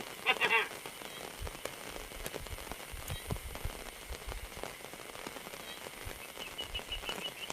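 Steady heavy rain patters down on a surface at night, a continuous hiss with scattered drops, and a brief sharper burst near the start.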